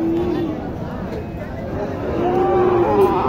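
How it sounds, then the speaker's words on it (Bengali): A cow at a busy cattle market lets out a long, loud low moo close by, with people talking around it. "চমৎকার একটি গরু।"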